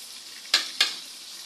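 Carrots and potatoes stir-frying in a pan, a steady close sizzle broken by two short scraping stirs a moment apart, with no voices.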